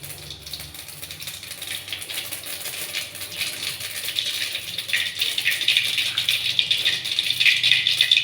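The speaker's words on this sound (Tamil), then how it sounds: "கடுகு பொரிஞ்சிச்சு." Mustard seeds crackle and splutter in hot oil in a pan while tempering with curry leaves, a dense sizzling rattle of tiny pops that builds steadily louder over several seconds, with no voices.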